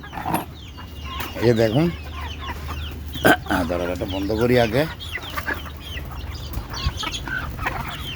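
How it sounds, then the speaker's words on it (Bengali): Local hens cluck and call in bursts while being fed jackfruit, with a sharp clatter partway through and a person speaking briefly between the calls. "এই যে কাঁঠাল রেসিপি দিয়ে দিচ্ছি মুরগিকে।"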